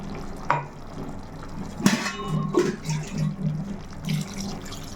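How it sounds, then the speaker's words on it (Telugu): Water poured into a pot of egg and chicken curry produces a series of close, splashy gurgles and a few clattering knocks from the pot, continuing for several seconds without talk. "వాటర్ కూడా వేసుకుందామండి."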